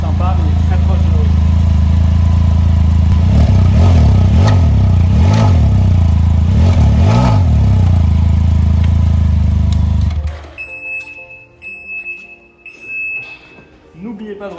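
A Can-Am Ryker 900 Rally three-wheeler from 2022 idles loud and close with a new aftermarket exhaust, a deep steady rumble with a few throttle blips before the engine cuts off, leaving quiet background tones.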